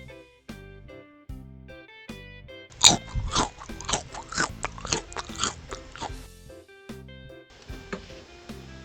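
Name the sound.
crunching Lay's grilled shrimp and seafood sauce snack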